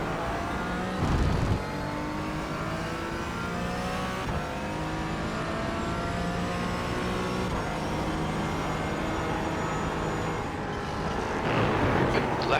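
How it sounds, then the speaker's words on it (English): A faster sports car in an iRacing race at Algarve draws up with a rising engine whine over the player's own steady race car drone, and the engine note swells again near the end. "Faster car approaching."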